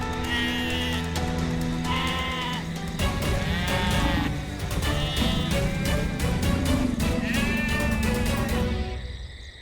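A female goat caught in a tiger's jaws bleats continuously and loudly in repeated, wavering cries, close and without talk.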